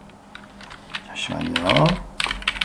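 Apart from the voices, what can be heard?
typing on a computer keyboard, pressing F2 and Enter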